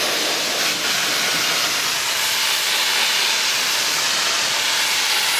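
Continuous pressurized spray hiss from an aerosol can, applied while upholstering vinyl onto a custom motorcycle seat, steady and close for several seconds with no talking.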